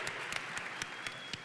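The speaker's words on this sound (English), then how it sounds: "Would you give a round of applause to the men that are here today?" Audience applause at a church rally honoring the men present, heard as a steady wash of clapping with a few sharper individual claps standing out, moderately distant and without talk.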